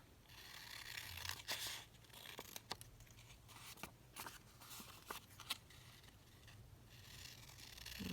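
A paper envelope booklet is trimmed with scissors, giving faint, quiet snips and crisp papery crackles at irregular intervals over a soft background hiss.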